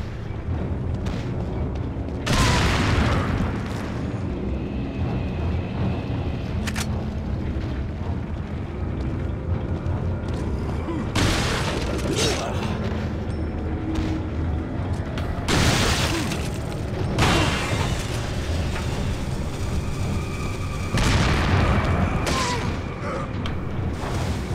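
Explosions in the video game Resident Evil, several loud broadband blasts spaced across the stretch over a low rumbling game ambience with mechanical creaks.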